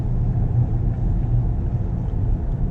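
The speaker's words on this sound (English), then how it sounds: "this car drives smoothly, it drives gently" A Volkswagen Touareg R-line cruising along, its low engine and road rumble a steady, smooth drone close by with no revving peaks and nobody speaking.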